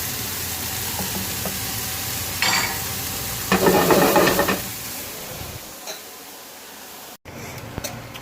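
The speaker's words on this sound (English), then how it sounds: "we're going to put the carrots and the celery in this time. So we'll fry that off until that goes brown as well" Carrots and celery fry in a pan, a low steady sizzle that flares into louder crackling bursts twice as the vegetables are moved, then settles and briefly cuts out before light clicks.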